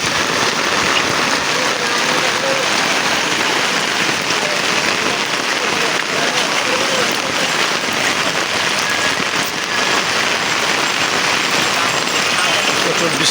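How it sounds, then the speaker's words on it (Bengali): Heavy rain pours onto a city street lined with shops and flooded drains, a loud, dense, unbroken roar of drops on hard surfaces, with speech faintly present under the downpour. "প্রচুর বৃষ্টি শহরে।"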